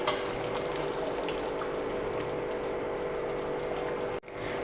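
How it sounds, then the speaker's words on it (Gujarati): Onion-tomato puree in a pan of stuffed gunda curry, giving a steady, dense sizzle and bubbling close by throughout, with a brief clatter near the end. "5 મિનિટ થઈ ગઈ છે તો તેમાં આપણે ડુંગળી ટામેટાની પ્યોરીને ઉમેરી દેશું"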